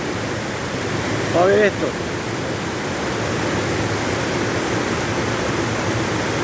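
Floodwater rushes loudly at the Ruidera lagoons after heavy rains, a steady, close roar of water with a short spoken phrase near the start.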